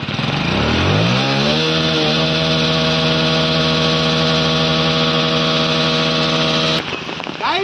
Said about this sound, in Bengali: গাইস, গাড়ি ইঞ্জিন চালু হয়ে গেছে